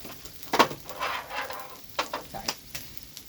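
Onions sauté in a pan, a soft sizzle punctuated by a handful of sharp spatula scrapes and taps in an uneven rhythm, nearby with no one talking.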